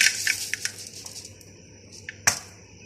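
Crispy fried chana dal for nimko being handled after frying, a series of sharp dry clinks and rattles, close and distinct, with a loud crunchy clatter near the end.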